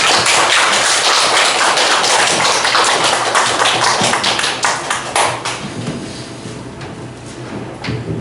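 A church congregation at an autumn revival service bursts into loud, dense applause that goes on for several seconds, then thins into scattered claps as it dies down.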